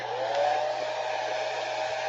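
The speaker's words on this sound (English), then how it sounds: "I'm going to take really quickly and dry my board with a hairdryer" A handheld hair dryer blows steadily up close, drying a freshly chalked Chalk Couture board in a crafting session, giving a continuous even whoosh with a low motor hum throughout.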